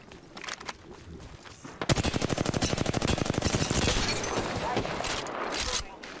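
Rapid automatic gunfire in the battle-royale game Apex Legends: a long, steady burst of closely spaced shots, loud and near, preceded by a few scattered pops, with voices talking over it.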